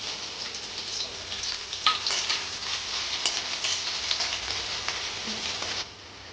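Chopped onion frying in a hot pan for matar paneer, a steady close sizzle with faint crackles and a few soft stirring scrapes, fading slightly at the very end.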